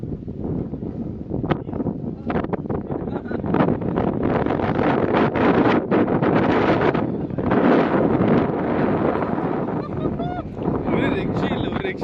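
Strong wind sweeps across a foggy hilltop in the Ambanad Hills near Rosemala, a steady, loud roar buffeting the microphone with gusting surges throughout, and a voice faintly audible beneath it.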